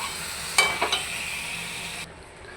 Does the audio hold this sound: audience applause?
no